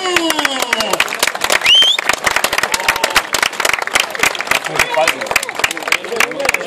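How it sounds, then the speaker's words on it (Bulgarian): Spectators at a drift rally applauding in scattered, sharp claps amid crowd noise, with an announcer's voice and engine or whistle-like tones cutting through; loud and close. "Аплодисменти за Иван Минев"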